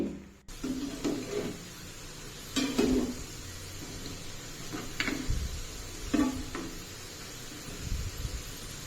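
Food sizzles steadily in hot oil in a home kitchen pan while a spoon stirs it in a few separate bursts of scraping and clatter, close by with no voices.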